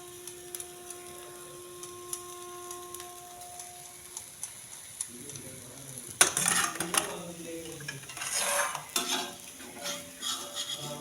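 Onion and grated paneer sizzling in a pan, with spatula scrapes and stirring clatter starting about halfway through and continuing to the end, after a quieter opening with a faint steady tone.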